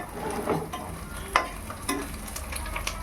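Eggplant pieces frying in hot oil for a savadai curry give a steady sizzle, with a few scrapes and knocks from turning them and no talking.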